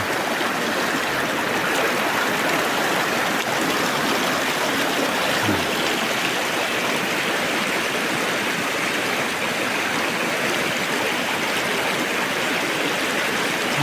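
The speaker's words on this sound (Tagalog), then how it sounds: "Napakalinaw talaga ng tubig dito malakas po ang agos" Steady, loud rush of a fast-flowing, clear river in Cotabato, a dense continuous roar that never lets up, with no voices.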